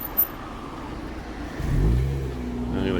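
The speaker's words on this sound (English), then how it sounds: "So just waiting for this car to go past." A car drives along the road beside the old EMI factory site in Hayes. Its engine rumble swells from quiet background hum to a close, low roar partway through, then lingers steadily.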